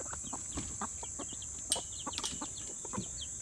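A mother hen clucks softly in a coop while her newly hatched baby chicks peep in quick, busy bursts close by, with a steady high-pitched tone underneath.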